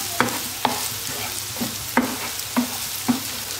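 Meatballs sizzle in a hot frying pan, with a soft background crackle and a handful of scraping stirs or clinks spaced irregularly, close by.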